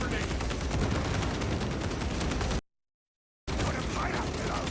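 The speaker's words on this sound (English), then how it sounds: "Guns firing!" Sustained, dense gunfire from the Warhammer 40,000: Space Marine II video game rattles loudly and continuously, broken by a brief silent gap before the rapid shooting resumes.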